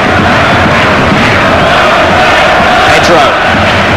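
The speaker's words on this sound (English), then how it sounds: "Crowd urging the Spanish forward." A dense, roaring football stadium crowd at a World Cup match between Chile and Spain, loud and unbroken, swelling as the Spanish forward pushes on the attack.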